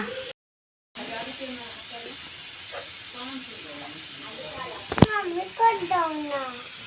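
A pressure cooker cooking meat hisses steadily with a broad steam whistle throughout, with a short gap near the start and a sharp click partway through, while a voice speaks over it.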